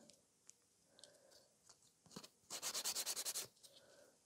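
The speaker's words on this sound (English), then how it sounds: "So I'm quickly filing" Rapid back-and-forth filing of an acrylic nail tip into a coffin shape, a quick burst of about ten scratchy strokes, close and crisp, after quieter soft rubbing.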